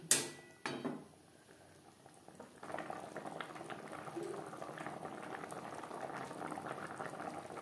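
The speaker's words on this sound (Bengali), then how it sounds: "গ্রেভি বেশ ভালো করে ফুটতে শুরু করে দিয়েছে" A fish curry gravy with vegetables bubbles at a steady boil, soft and close, after a couple of brief knocks at the start.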